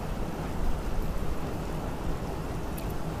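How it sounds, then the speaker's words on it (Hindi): Steady, dense monsoon rain hisses without a break in the video game Train Simulator Classic, forming an even wash of noise with no talk. "मानसून आ चुका है, तो मानसून की बरसात यहाँ पे हो रही है।"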